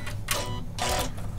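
A Janome sewing machine with an edge guide foot stitches down ribbon in close, rapid mechanical bursts. A short pause separates them and no one speaks.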